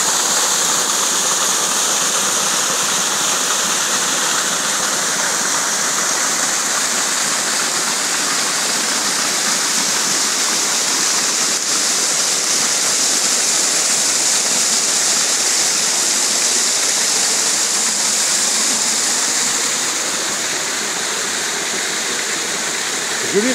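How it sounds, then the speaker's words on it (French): A mountain waterfall and river roar in a steady, dense rush of water that stays loud and unbroken throughout, close by, with no voices over it. "Arrive à la cascade."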